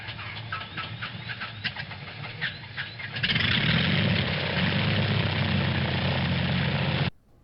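A P-51 Mustang propeller aircraft's engine, heard first as sputtering, uneven firing and then as a loud, steady propeller roar that holds for several seconds before cutting off abruptly.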